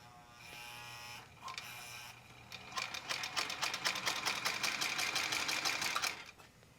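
A Singer 17-23 industrial sewing machine stitching through four layers of fabric, starting with a few slow single stitches, then running fast and steady for several seconds before stopping; close and fairly quiet.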